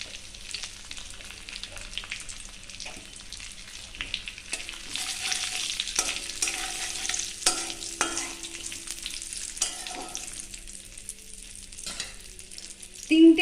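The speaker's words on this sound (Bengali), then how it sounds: "এবার আমি কড়াই তেলের মধ্যে জিরে ফোড়ন দিলাম, আর দিলাম তেজপাতা।" Cumin seeds and bay leaf sizzle in hot oil in a wok, a steady close crackling fry with scattered pops and occasional stirring scrapes, rising louder toward the end.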